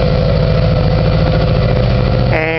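A Subaru EJ engine idles with a steady, loud, close rumbling drone and even low pulsing, alone without voices, shifting in tone briefly near the end.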